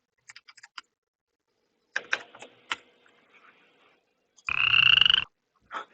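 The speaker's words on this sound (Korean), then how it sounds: "개구리 울음소리" Cartoonish frog croaks used as a game sound effect in a school coding project: a few quick clicky croaks, a short burst, then one loud sustained rattling croak followed by a final brief croak, with no talking.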